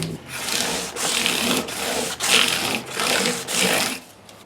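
Gibson Custom Shop guitar body hand-sanded with 1200 grit sandpaper, rhythmic back-and-forth rasping strokes in a steady pattern of about one stroke every half second, close and clear, with no talk.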